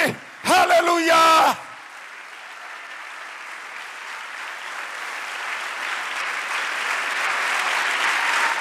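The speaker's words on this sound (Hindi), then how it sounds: "जोरदार तालियां यीशु नासरी के लिए" At a church prayer service, a congregation bursts into loud, sustained applause for Jesus after a brief shouted phrase over a microphone; the clapping grows steadily and continues alone to the end.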